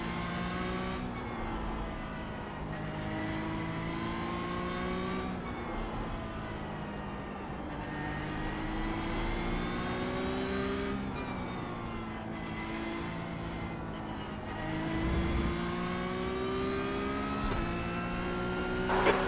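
A Porsche Cup race car at Suzuka in iRacing drones steadily while warming tyres and brakes, its engine note rising and falling through gear changes, moderately loud with no talk.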